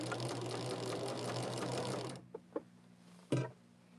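A sewing machine stitches quilt block columns together in a fast, steady mechanical chatter for about two seconds, then stops, leaving a few soft clicks and a brief clunk against a quiet room hum.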